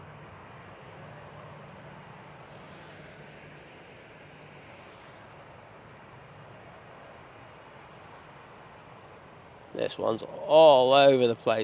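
An airplane on approach to Manchester Airport in strong, gusty wind gives a steady, fairly quiet broadband roar that holds for about ten seconds, then someone speaks briefly over it at close range.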